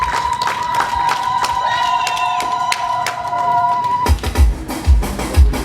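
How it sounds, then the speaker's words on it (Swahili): A crowd at a petroleum business launch ceremony in Kyela claps and cheers. Scattered sharp claps sit over a steady whistling tone at first, then heavier thumping, louder crowd noise and cheering take over for the last stretch. "Naomba tupige makofi mengi"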